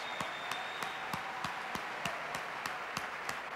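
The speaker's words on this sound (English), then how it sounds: "give ACN a round of applause" An audience at a business presentation applauds, with steady, evenly spaced claps repeating at a quick regular beat over a low crowd murmur.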